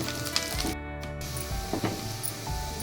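Garlic fries in butter in a pan, a soft continuous sizzle broken by light stirring clatter and small pops.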